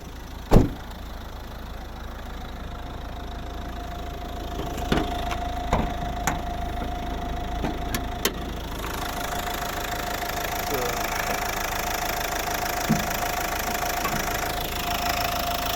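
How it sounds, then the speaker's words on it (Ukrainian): The 1.5 dCi Renault K9K diesel engine of a 2009 Nissan Qashqai+2 with 156,000 km idles steadily with a low, even rumble, punctuated by a few clicks and knocks, and faint voices in the background. "Ось робота двигуна."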